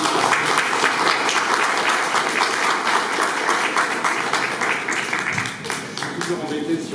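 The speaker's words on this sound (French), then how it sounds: "Toujours embêté si on applaudit avant" An audience applauds at a gallery talk, a dense sustained clapping that fills the room steadily for several seconds before tapering slightly at the end.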